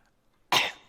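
A single sharp cough bursts out after a moment of near silence, loud and close, then trails off quickly.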